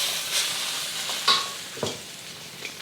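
Shrimp paste fries in a pan, giving a soft, steady sizzle while a utensil stirs and scrapes it against the bottom in a few short strokes, close and quiet, with no voices.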